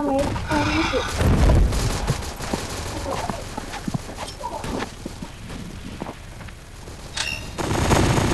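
P90 gunfire in the mobile shooter CrossFire Mobile, quick bursts of rapid in-game shooting scattered through the stretch, with a voice talking over much of it.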